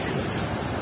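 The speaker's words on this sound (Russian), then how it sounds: "Сегодня вот волны, да, еще раз говорю, ветер." Sea surf breaking on a windy beach at Dzhemete near Anapa, a steady loud rush of waves with wind buffeting the microphone throughout, no voices.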